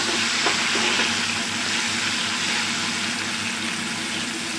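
Garlic and a green chili fry and are stirred in a hot pan, giving a steady, loud, close sizzle with a few scraping stirs near the start.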